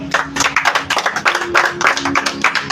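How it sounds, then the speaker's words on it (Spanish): A church congregation claps together in response to a call to applaud the Lord, a dense, steady run of many hands close by, with a faint sustained tone running underneath. "Denle un aplauso al Señor."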